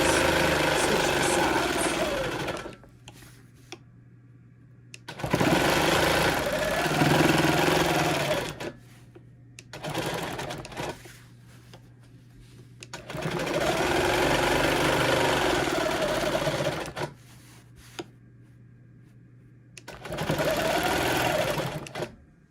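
Quilting on a sewing machine: stretches of rapid, steady needle whirring stop and restart, the bursts separated by quieter pauses with a faint hum.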